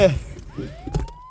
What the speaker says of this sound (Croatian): Jel to sirena od hitne ili je to sirena od policije?